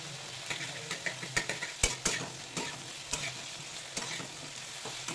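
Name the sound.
ginger frying in a pan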